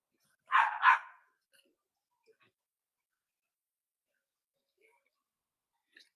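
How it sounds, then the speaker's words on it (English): A dog gives two quick barks close together outdoors at a backyard cigar session, then the air falls nearly silent apart from a few faint ticks. "there's a dog barking or there's somebody mowing their yard"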